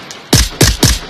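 Three loud, booming gunshots from the VR shooter Onward come in quick succession about a quarter second apart, close and heavy, each with a short decaying tail.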